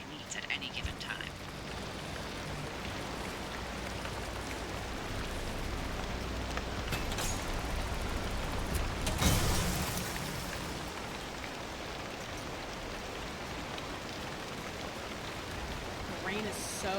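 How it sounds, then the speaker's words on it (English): Steady heavy rain in the video game Pacific Drive, a dense continuous hiss with a brief louder swell midway, faintly overlaid by soft voices. "The rain is so loud."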